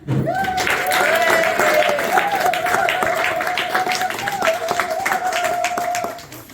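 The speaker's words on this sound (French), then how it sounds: "On peut encore applaudir." A crowd at an anniversary celebration applauds steadily for several seconds, dense clapping with a sustained tone running beneath it.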